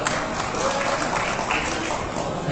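Applause from an audience at the PSSI football federation congress honouring officials, a steady wash of clapping at moderate level throughout the short stretch, with faint crowd murmur mixed in.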